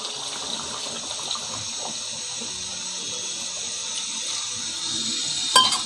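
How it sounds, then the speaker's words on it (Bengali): Hot water, two cups, pours into a pot of simmering beef curry cooked with satkora citrus, a steady hissing splash lasting several seconds and ending in a brief louder gush. "দিয়ে দিচ্ছি 2 কাপ গরম পানি।"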